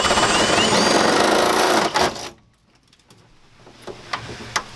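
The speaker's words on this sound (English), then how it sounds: "change over to your 3/16 bit and go ahead and punch out the smaller holes" A drill with a 3/16 bit bores small holes while framing an A-frame interior: a loud, steady whirring drone for about two seconds, then it stops, leaving quiet handling clicks and a few light knocks.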